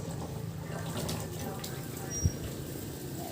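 Cassava being washed in water, with a steady wash of sloshing and trickling and one brief splash near the end, fairly quiet throughout.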